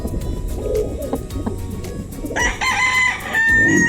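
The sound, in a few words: gamefowl rooster crowing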